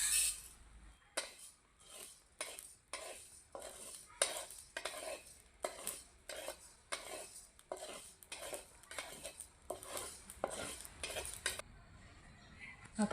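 Coriander seeds, cumin and ajwain dry-roast in a pan while a metal spoon stirs them, making a run of regular scraping clinks about once a second, close and clear, with no talk.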